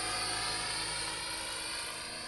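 A large scale radio-controlled helicopter flies a slow figure-eight, its steady rotor buzz and whine holding close and loud throughout with no talk.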